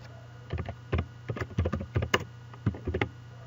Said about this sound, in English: Let's type this example in the search box to see what happens.